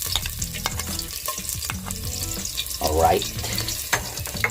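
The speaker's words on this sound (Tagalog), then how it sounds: "Ilagay nyo na natin yung durog na bawang." Crushed garlic sizzles steadily in hot oil and is stirred in a pan, with a brief spoken word near the start and a swell of frying around the middle.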